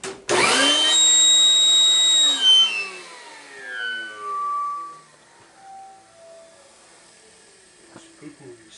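A vacuum with a pool tube attached starts up with a loud whine, then its pitch sweeps and falls as it winds down. Voices speak over the noise.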